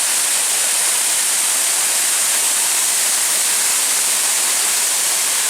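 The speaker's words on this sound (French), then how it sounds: "Voilà, arrivé devant les 3 magnifiques cascades." Three waterfalls on Réunion island pour in a steady, dense roar of rushing water, unbroken and loud throughout with no voices.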